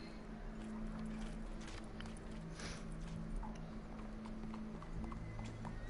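Horse hooves clip-clop at a walking pace in Red Dead Redemption 2, over a low background hum, fairly faint and steady.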